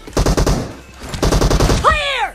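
Rapid automatic rifle fire from PUBG Mobile, an AKM or M762, comes in two loud close bursts of quick repeated shots, followed by a short rising electronic tone.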